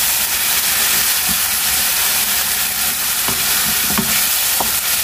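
Tomato and capsicum frying in a pan give a loud, dense, continuous sizzle with steady hiss, marked by occasional clacks of a spoon stirring, and no voices.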